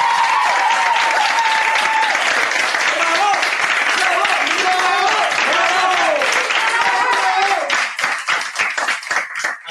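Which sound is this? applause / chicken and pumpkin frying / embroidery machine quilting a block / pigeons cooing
applause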